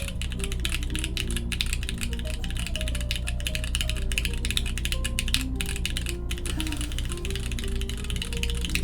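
Typing on a Honeyboard 60 mechanical keyboard with Velvet Unikorn switches and a green PCB, a dense continuous stream of close key clacks over a steady low hum, no voices.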